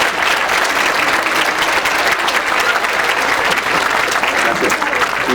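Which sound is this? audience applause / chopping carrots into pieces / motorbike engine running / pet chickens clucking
audience applause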